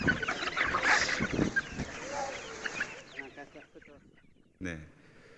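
Chickens cluck and squawk in a busy flock as they chase a child holding feed, loud at first and then thinning out before a brief sharp sound near the end.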